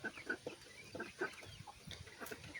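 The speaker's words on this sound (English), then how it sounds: "That little chicken jumped on my arm" Backyard chickens cluck in short, repeated bursts close by, soft and irregular, with a few higher chirping notes scattered among them and no speech.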